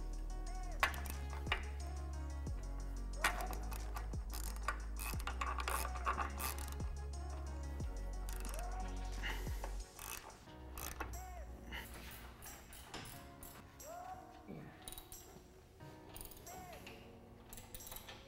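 A ratchet clicks in repeated rapid strokes as bracket bolts and pins are tightened on a vehicle's sway bar mount. A clattering metallic stream carries throughout with occasional pings, close and moderately loud.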